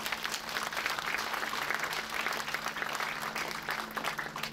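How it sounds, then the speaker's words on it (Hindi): A gathered audience at a spiritual darshan with Sri Siddeshwar Brahmrishi Guruvar breaks into dense, continuous applause. Many hands clap at once in an even roar that stays steady from start to finish. "ताली बजा दो"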